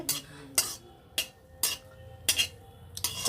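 Green chilies frying in hot oil in a pan, with a soft sizzle under regular scraping strokes of a utensil about every half second, close and fairly quiet.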